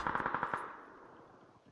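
A fast burst of gunfire in the battle royale game PUBG, about half a dozen rapid shots that fade into an echoing tail, fairly distant and alone.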